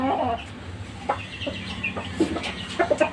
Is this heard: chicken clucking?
yes